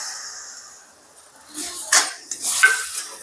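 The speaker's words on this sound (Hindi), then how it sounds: "अब इसमें हमें लिए थे मीडियम साइज के 3 टमाटर, वो इसको पीस लिए हैं," A spoon clinks and scrapes in a pan as ground paste from three medium tomatoes is mixed into already fried masala for Punjabi sarson ka saag, quiet at first, then busier metallic clatter.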